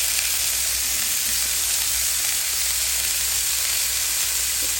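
Yardlong beans fry in a hot pan with a loud, steady, unbroken sizzle that fills the whole stretch. No voices are heard.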